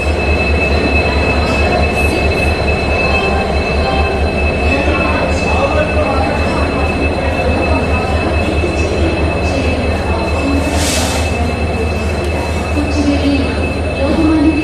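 A train rumbles loudly nearby at a railway station in India, with a steady metallic hum, a high tonal whine and occasional squeals, faint voices in the background.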